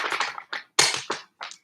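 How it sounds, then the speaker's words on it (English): Tarot cards being shuffled by hand, a few quick riffling bursts of stiff cards rasping together, separated by short silences, close and fairly loud. "All right, last shuffle."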